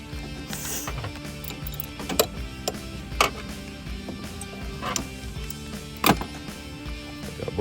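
A ratchet works loose an alternator bolt on a 2016 Volkswagen Jetta 1.4 in close, fast mechanical clicking, broken by a few sharper metallic clanks as the tool shifts.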